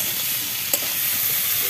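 Prawns and green jackfruit fry in a pan at home, giving a steady close sizzle with a light stir and a short tap near the middle, no voices over it.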